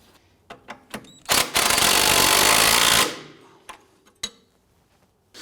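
Wrench or impact driver tightening the nut on a front upper control arm of a 2004-2008 Acura TL: a loud sustained whirring burst of about two seconds, framed by scattered metallic clicks and clanks of tools against the suspension parts.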